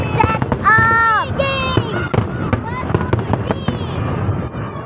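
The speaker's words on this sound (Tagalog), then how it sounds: "fireworks set up." Fireworks bursting at a large fireworks show at SM Mall of Asia, with repeated sharp booms and crackles one after another, plus whistling rising shells, while excited spectators talk and exclaim nearby.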